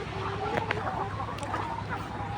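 Layer hens clucking inside a poultry farm shed, a dense chorus of overlapping clucks and short calls over a constant background hum, moderately loud and close.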